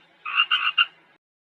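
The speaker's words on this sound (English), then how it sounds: "frog" A frog gives a single croak made of three quick pulses, close and distinct in an otherwise silent setting.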